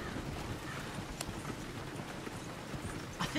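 A horse's hooves clip-clop in a steady trotting rhythm in the Red Dead Redemption 2 video game, fairly faint under a continuous noisy ambient bed, with a few sharper knocks near the end.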